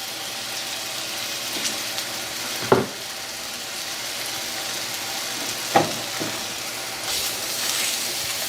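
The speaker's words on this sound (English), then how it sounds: "now you want to saute these until they're nice and brown" Zucchini sautéing in a pan, a steady soft sizzle throughout with a couple of brief clatters as the slices are moved or turned, and no voices.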